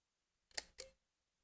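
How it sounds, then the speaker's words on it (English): Two quick mechanical clicks, close and crisp, a small folding film camera's shutter firing and resetting in a quiet room. "if you cock the shutter, this little button here is the shutter"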